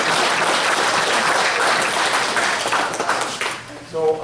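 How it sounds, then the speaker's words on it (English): A board meeting audience claps in a broad, sustained round of applause that fills most of the moment before tapering off, with a voice emerging as the clapping fades. "Just a big round of applause for it."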